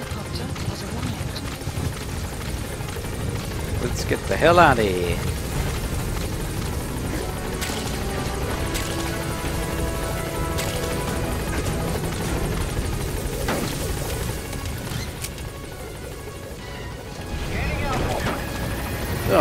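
Support helicopter arriving in the video game Metal Gear Solid 5: The Phantom Pain, a steady loud rotor drone filling the whole stretch, with a radio-style voice and other speech over it.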